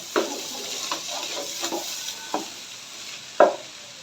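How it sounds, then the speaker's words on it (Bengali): Fried rice with ground black pepper is stirred in a hot pan, with soft sizzling under a series of distinct scraping stirs, about five or six strokes, the last one loudest, no talking. "গোলমরিচের গুঁড়ো দিয়ে দিলাম এইবার আমি নাড়ব"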